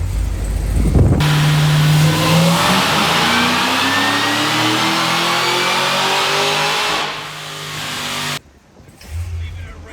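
A Cadillac CTS-V fitted with a BTR cam, making about 700 wheel horsepower, roars through a full-throttle dyno pull, its pitch climbing steadily and loudly before the engine abruptly drops off and settles back to a lower rumble.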